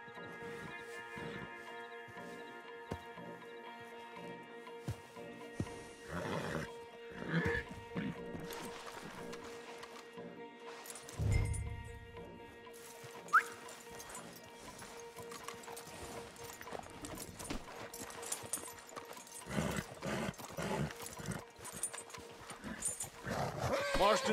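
Horses, stallions among them, move in the video game Red Dead Redemption 2, their hooves clip-clopping steadily with occasional snorts and a whinny. Characters talk over the hoofbeats, backed by a faint musical score.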